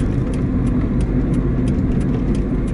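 A car engine hums loudly and steadily at speed, its drone rising briefly as the revs spike during a shift into third gear, with no voices.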